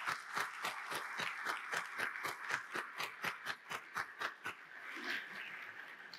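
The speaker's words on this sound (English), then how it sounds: "please, a round of applause for the SCSP team." At a technology summit, a small audience gives a round of applause for the organizing team: clear, rhythmic individual claps, close and fairly quiet, fading out near the end.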